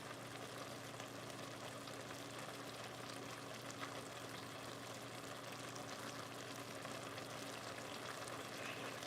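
Faint, steady crackling sizzle of Italian sausage and potatoes frying in a pan, continuous and even throughout with no talking.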